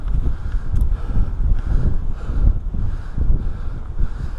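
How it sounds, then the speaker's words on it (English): Wind gusting across an open hilltop, buffeting the microphone in loud, uneven low-pitched bursts that swell and ease with no voices. "A bit windy up here."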